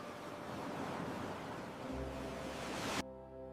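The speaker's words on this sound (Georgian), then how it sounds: "ზღვა ისე ღელავდა" Stormy sea waves in a cartoon fairy tale, a steady loud roaring surge that cuts off abruptly into a low droning tone near the end.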